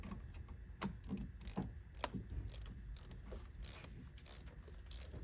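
A ratcheting torque wrench tightens a bolt on a 3.6 Pentastar engine, making rapid clicking pawl strokes in short bursts, quiet and close, with no talk.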